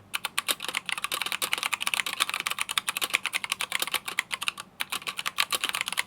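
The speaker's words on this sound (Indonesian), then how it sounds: "Gue punya yang brown switch karena gue paling suka yang brown, dan juga gue suka sama suaranya." Fingers type rapidly on a mechanical keyboard with brown switches, a close, dense stream of crisp clacks in an uneven rhythm with a brief pause, heard alone.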